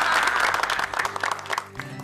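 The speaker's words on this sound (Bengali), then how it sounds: "আমাদের সকলের উচিত ওর জন্য একটা বড় করে হাততালি দেয়া" A group claps in warm applause for Mithai in a Bengali TV serial scene, with quick sharp hand claps bunching together over a soft musical bed, fading slightly toward the end.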